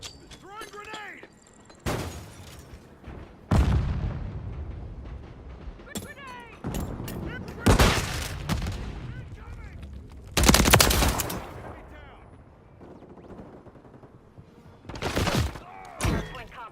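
Gunfire in a Call of Duty Modern Warfare 3 multiplayer hardpoint match: loud bursts of automatic and single shots come in several clusters with gaps between them, while in-game radio voices speak over and between the shooting.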